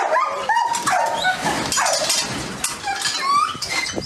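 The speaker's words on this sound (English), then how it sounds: "Really a good dog" A young male dog in a working-dog kennel yard whimpers and whines continuously in high, wavering cries, loud and close, with yips and other dogs' noise behind.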